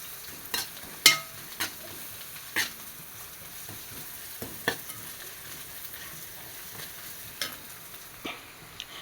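A large chopped onion fries with ginger garlic paste in a pan for chicken curry, a quiet, even sizzle marked by scattered scraping stirs and a few sharper clinks of the spoon, close and low.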